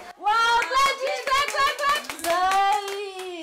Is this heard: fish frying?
no